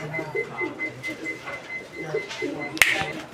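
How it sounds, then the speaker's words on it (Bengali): A pair of Danish pigeons coo softly in a loft, a series of low, rounded coos repeating at a steady pace close by, with a sharp click near the end. "এইটা হচ্ছে ডেনিশ কবুতর একটা জোড়া"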